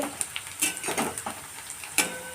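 Green chilies frying in a pan while fresh methi is being cooked: light sizzling with scattered stirring scrapes and a few sharp utensil clinks, close and fairly quiet.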